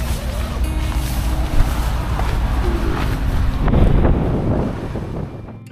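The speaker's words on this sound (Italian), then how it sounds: "Siamo in tenda e anche oggi il vento non perdona." Strong wind buffets a tent, a steady loud roar and rumble of gusts against the fabric and microphone, swelling toward the end before fading.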